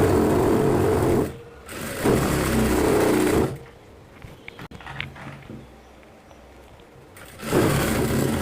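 A sewing machine runs in bursts while stitching a folded fabric seam, loud, steady whirring stretches at the start and end with a quieter pause between.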